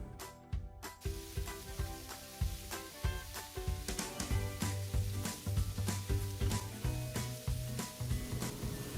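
Diced chicken sizzles in hot oil in a wok over medium heat, a continuous fry with repeated rhythmic clacks of the spatula tossing the pieces, heard close and without talk.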